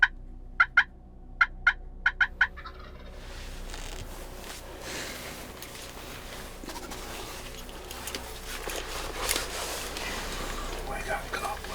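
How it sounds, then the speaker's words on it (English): Wild turkey gobblers gobble in a few sharp, distant bursts during a spring turkey hunt, followed by quiet rustling outdoor ambience and soft whispering. "We got gobblers. Kind of working their way this way."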